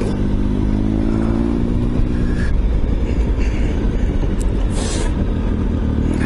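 A Triumph Tiger 955i motorcycle engine with a blowing exhaust runs loud and close, a steady rough drone with a low idle hum at first, then heavier throbbing as it pulls away.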